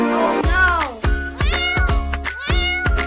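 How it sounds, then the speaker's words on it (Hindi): Several high, thin meows repeat in quick succession, close and clear, like small kittens crying one after another, in a Hindi cartoon. "इतनी ढेर सारी छोटी छोटी बिल्लियाँ"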